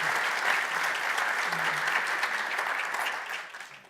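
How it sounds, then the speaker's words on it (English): Applause from an audience for panel members at a Black History Month observance at the US Army War College, steady, full clapping that tapers off at the end. "Please give them a round of applause."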